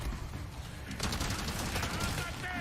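Shotgun blasts and gunfire in Resident Evil, a dense burst of shots rattling over a noisy mix, with a voice talking over the action.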